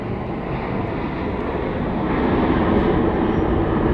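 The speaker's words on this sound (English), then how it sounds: "There we go, loud reversers there for that Kansas City flight." An airliner on its landing roll at Dallas Love Field roars with thrust reversers deployed, a loud broadband rush that swells and grows heavier partway through, with no voices over it.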